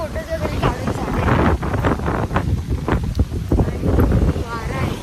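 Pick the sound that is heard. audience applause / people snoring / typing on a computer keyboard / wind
wind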